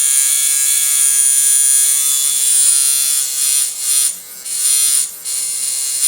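Vlad Blad Infinite Liner coil tattoo machine running at 6 volts, giving a steady, loud, high electric buzz that holds on without a break and briefly dips and stutters near the end, with no one talking.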